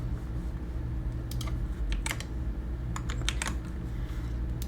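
Fast typing on a computer keyboard, close and clear, with irregular bursts of key clicks over a steady low hum, no talking.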